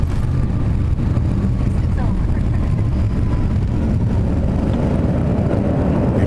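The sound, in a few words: airliner thrust reversers roaring after landing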